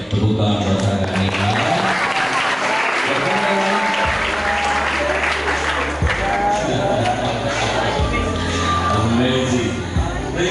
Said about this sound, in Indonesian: Tepuk tangan buat Saka ini.